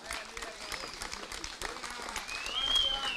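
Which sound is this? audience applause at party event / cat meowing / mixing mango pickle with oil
audience applause at party event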